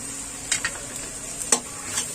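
Onions fry with turmeric and red chili powder in a pan, a soft continuous sizzle broken by a few scraping stirs of a utensil, close up with no talk.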